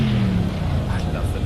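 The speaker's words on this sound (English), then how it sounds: "I love the noise of this Merc." A Mercedes GT3 race car's engine drones steadily in Project CARS during a GT3 race at Silverstone, a low, sustained tone that sits under someone talking over it.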